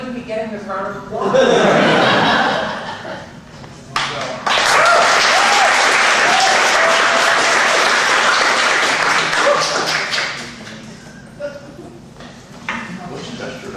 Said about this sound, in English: See, if it was easy, you wouldn't be getting this round of applause.